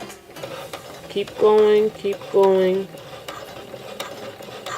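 A sewing machine stitches a zipper into a dress bodice, its motor whirring in two short bursts of about half a second each, close and moderately loud, with a brief spoken voice nearby.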